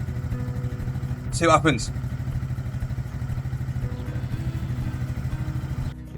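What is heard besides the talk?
Honda C90 motorcycle engine running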